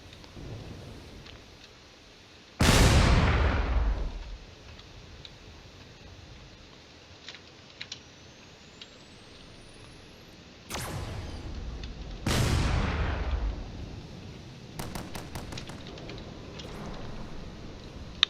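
Turrets firing shots at a corvette in a space combat video game: a few loud, booming blasts with long decaying tails, separated by quieter stretches with small clicks and a quick burst of sharp cracks near the end.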